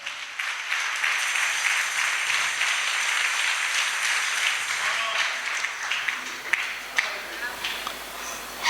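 A church congregation applauds and acclaims God with continuous, dense clapping mixed with crowd cheering, holding a steady level throughout.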